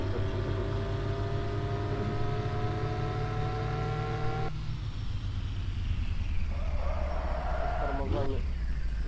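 Car engine droning in Car For Sale Simulator, a steady close hum with tonal whine that drops off midway, then a rising rev and a short burst of mechanical noise near the end.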